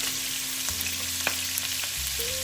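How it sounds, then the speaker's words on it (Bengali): Chopped onion and green chili frying in hot oil, a steady close crackling sizzle with a low hum underneath and a few faint clinks, no voices. "আমি এখন এতে দিয়ে দিচ্ছি পেঁয়াজ কুচি সাথে দিয়ে দিচ্ছি কাঁচামরিচ"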